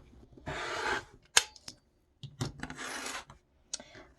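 Rotary cutter or scissors trimming excess quilt fabric along a ruler beside a seam, two longer rasping cutting passes with a sharp tap between, close and fairly quiet, no talking.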